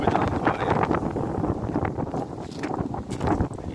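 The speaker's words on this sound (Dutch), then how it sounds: "Heel goed aan het waaien." Strong wind gusts buffet the microphone outdoors, a loud, continuous roaring rumble with uneven surges and no speech.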